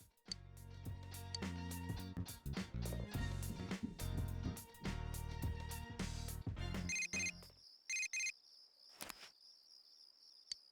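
Text message alert on a phone in Persona 4 Golden: bright, high electronic chimes ring out in short repeated bursts toward the end, following a stretch of busy game music and clatter.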